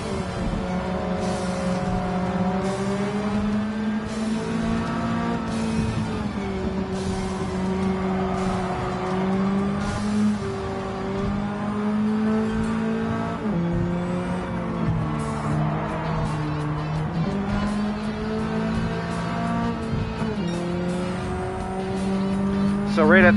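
A car engine in Gran Turismo 7 holds high revs and bounces off its rev limiter at 7,000 RPM, giving a loud droning buzz that stutters and wavers steadily, with tire squeal mixed in.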